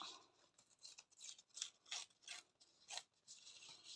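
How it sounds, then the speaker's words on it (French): Quiet, close rasping rips come in a series of short bursts, like paper being torn by hand, with no talking. "Ça se déchire très bien comme ça."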